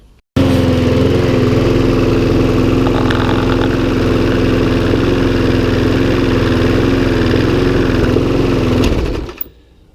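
A Briggs and Stratton engine on a Mountfield lawn mower starts abruptly and runs at a steady, loud, close drone for several seconds before cutting off and winding down.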